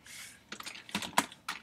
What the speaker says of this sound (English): Just typed in